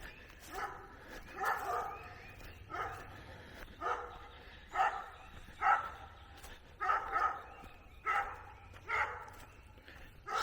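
Several dogs bark repeatedly in an uneven rhythm, sharp yips and barks overlapping at moderate distance, with brief pauses between bursts.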